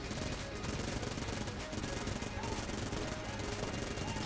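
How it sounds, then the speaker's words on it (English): Rapid, continuous Vulcan Cannon fire in the video game Enter the Gungeon, a dense stream of loud automatic shots with game effects layered in, sustained for several seconds with no break. "nice and easy kill there with the Vulcan Cannon"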